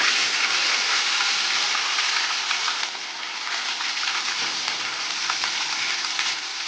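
Green chillies hit hot oil already crackling with curry leaves, making a loud, steady sizzle and frying hiss close up. The sound eases slightly partway through as it settles into the brinjal and tomato curry base.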